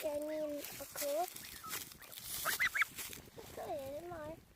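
Two farm geese honk repeatedly while being fed, their nasal calls coming in short bursts close to the microphone, with people talking and encouraging them between and over the honks.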